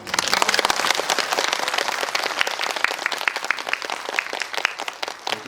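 Audience applause at a film talk event in a Megabox Coex cinema hall for the movie New Normal, dense steady clapping from a crowd, fairly close, sustained throughout and slowly thinning toward the end.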